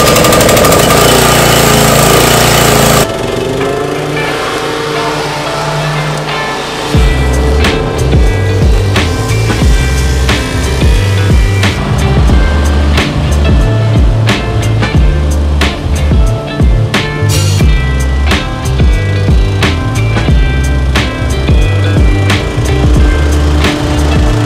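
A Toro Turfmaster 30 inch lawn mower engine is pulled to start, catches, and then runs. A loud continuous roar carries through, with a brief quieter stretch near the start before the engine settles into a steady, close, rough drone.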